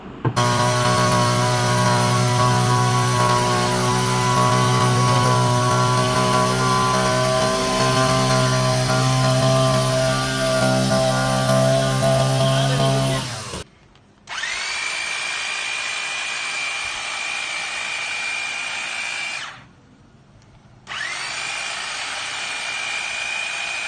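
A powerful tea leaf cutter machine running: a loud, steady motorized whine with a droning buzz, cutting off abruptly, then a higher-pitched tone that starts, stops briefly, and resumes.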